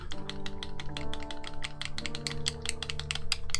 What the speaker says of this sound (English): that clicking that you could hear when I was shaking it was a little metal ball